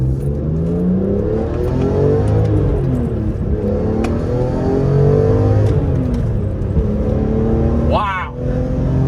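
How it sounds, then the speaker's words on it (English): A BMW E46 M3 engine revs loud and high under acceleration, its pitch climbing and sweeping in steady waves through the gears, with brief speech near the end. "When you get up high in the rev range, it just sounds fantastic."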